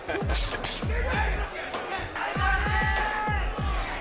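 Punches from Naoya Inoue, a 115-pound boxer, thud in a rapid series of heavy, close impacts at ringside, landing in clusters over a steady crowd murmur and commentary.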